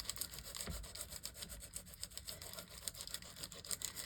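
A small file rubs gently over the edges of playing cards, a faint, close scratchy rasp repeating in quick uneven strokes with no talk.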